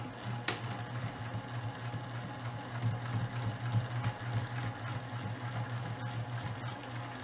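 A sewing machine stitches a clear vinyl drawstring bag with a steady, fast mechanical whir and rattle, close and fairly quiet, with no talking.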